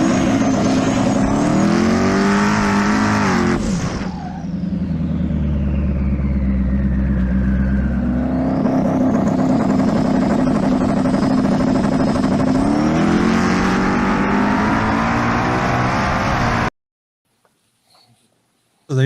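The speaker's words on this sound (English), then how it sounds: "You'll see the burnouts that they both do." Drag race cars do burnouts at the strip, engines roaring and revving hard with rising and falling pitch sweeps, loud and sustained for about sixteen seconds before cutting to near silence.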